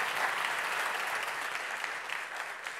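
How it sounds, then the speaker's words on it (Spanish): Audience applause at a conference talk on online shopping entrepreneurship, a dense steady clapping from a crowd that holds for about three seconds without speech. "Aplausos."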